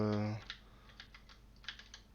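Computer keyboard keys pressed while playing Resident Evil 4 on PC: a handful of light, irregular clicks and taps at close range, following a brief low voice at the start.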